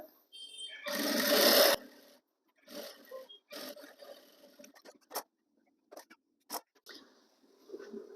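Sewing machine stitching a petticoat seam, one sustained whirring run followed by short stop-start bursts and ticks, close by and otherwise quiet.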